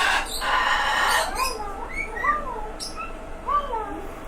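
Several birds give short, rising and falling chirps and whistles at close range, scattered unevenly through the clip after an opening burst of broadband noise, with a faint voice in the background.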